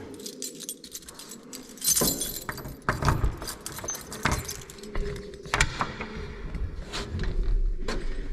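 Keys jangle and clink inside the closed cab of a CLAAS Tucano 440 combine harvester, a run of close metallic rattles and knocks with sharp bursts, no talk.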